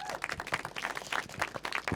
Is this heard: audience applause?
yes